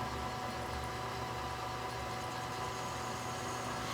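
A lathe turns at 440 RPM, facing off the end of a hardened vise handle of about Rockwell 40 to 45. The machine gives a steady, close, dense hum and whir with no pauses, and nobody speaks.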